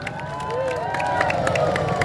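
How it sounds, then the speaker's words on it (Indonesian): A crowd at a street carnival cheers and claps, with shouts and whistles rising over a steady wash of noise throughout the short stretch. "berikan tepuk tangan yang meriah untuk rombongan dari Bapak Camat Lembang"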